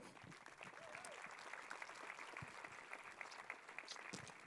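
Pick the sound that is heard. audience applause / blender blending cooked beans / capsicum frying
audience applause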